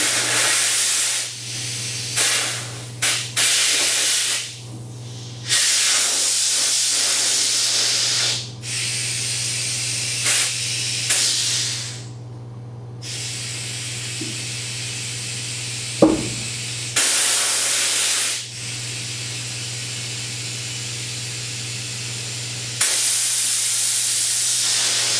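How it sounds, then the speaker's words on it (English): Loud bursts of compressed air hiss from the air bag suspension valve on a rat rod, repeated blasts of varying length separated by short pauses, over a steady low hum. "I can't turn the valve and hold it and air it up all at the same time."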